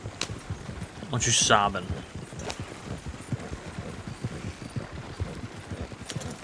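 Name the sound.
horse hooves clip-clopping in video game roleplay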